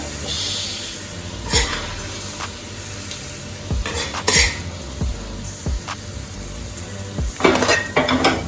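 Ackee and saltfish go into a Jamaican-style rice pot with a few sharp clanks of a metal spoon against the pot, soft sizzling and stirring scrapes between them, and a faint throat clearing.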